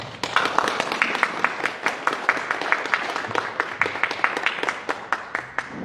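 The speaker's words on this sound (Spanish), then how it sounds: "Fuerte el aplauso." Audience clapping at a round-table event on public education, a moderate scattered applause of many hands with distinct individual claps standing out, steady throughout without voices.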